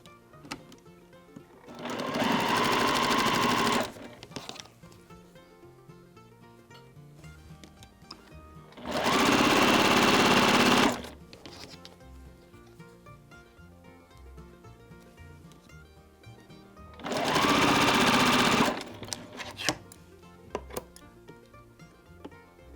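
A sewing machine stitching a quilt block runs in three separate bursts of steady whirring, each a few seconds long, with quiet pauses between.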